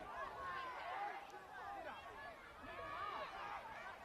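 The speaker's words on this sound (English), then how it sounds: "You can hear the crowd, the excitement in the air." Crowd noise from spectators at a boys U18 rugby league match, a steady excited murmur with shouts running throughout, mixed with a commentator talking over it.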